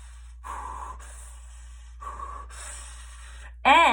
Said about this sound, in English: I can breathe fast. I can breathe slow.